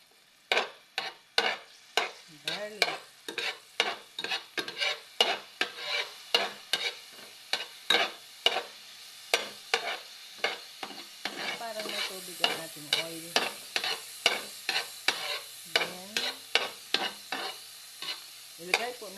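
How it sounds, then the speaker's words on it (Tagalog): Garlic sautés in oil in a pan while a spatula scrapes and stirs in a steady, regular rhythm of distinct strokes over a soft, continuous sizzle. "ang sunod po ay ating isuti ang garlic."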